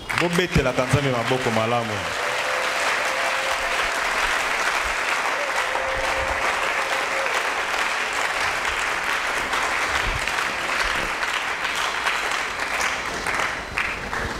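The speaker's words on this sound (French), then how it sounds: "Il faut bien acclamer le Seigneur" A church congregation applauds the Lord during a worship service, with sustained, dense clapping that fills the room at a steady loud level, opening with a few brief sung or spoken tones.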